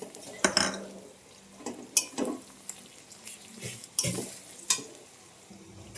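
Garlic frying in oil with bay leaf and cumin for biryani, with a soft sizzle beneath repeated sharp metal spatula scrapes and clinks against the pan at an uneven pace.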